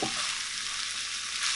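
Corn fries in a hot skillet with a steady, close sizzle that holds even and unbroken for a brief moment.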